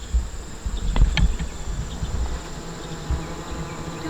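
Honeybees in a newly established hive that is being fitted with a jar feeder make a steady, low insect hum. Fainter buzzing from individual bees rises and falls close by. No one speaks.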